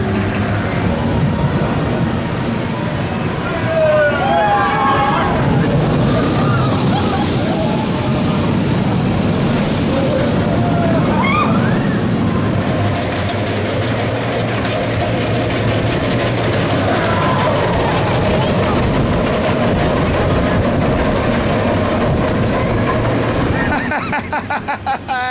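The Icon roller coaster at Blackpool Pleasure Beach thunders along its track in a loud, sustained roar of rushing wheels and wind, with riders' screams and shouts rising over the ride noise.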